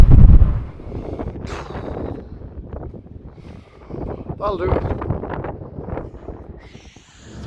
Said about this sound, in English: I don't know how much of that you actually heard, because it was a bit windy